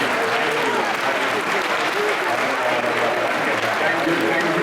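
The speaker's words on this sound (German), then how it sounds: "Let's give a big applause to the Lord." A large crowd at a religious gathering in Altötting, Germany, bursts into loud, dense, continuous applause that fills the whole stretch without letup.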